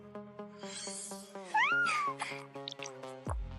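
A kitten meows once, close and clear, a drawn-out rising-then-falling cry standing out over a steady background tone.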